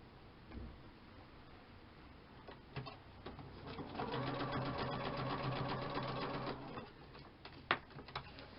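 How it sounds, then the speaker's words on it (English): A sewing machine stitches straight across layered, glued fabric tabs, running in a steady whirring burst for a few seconds between short start-stop runs and a few light clicks, close by with no talking. "I'm going to sew it right across at the back."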